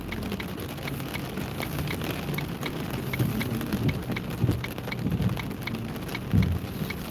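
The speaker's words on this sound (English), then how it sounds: "The problem is there's so much rain." Heavy rain pours steadily during a West Texas thunderstorm, a dense continuous hiss with occasional louder gusts and low rumbles, heard close and alone with no talking.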